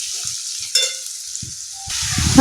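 Potatoes frying in a pan while chow mein is being made, a steady broadband sizzle with a few stirring knocks and scrapes, rising louder near the end.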